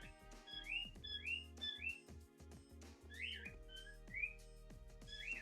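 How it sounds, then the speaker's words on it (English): Pet cockatiels chirp and whistle in the background, with repeated bright rising calls in quick bursts over steady tonal music. "So enjoy cockatiel music in the background."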